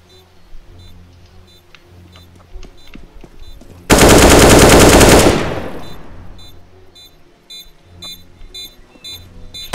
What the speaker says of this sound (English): Oh, nice shot.